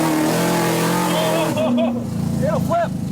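A car engine labours and revs through a gear change to second, loud and close at first, then dropping as the shift happens; people talk over it with voices overlapping the engine.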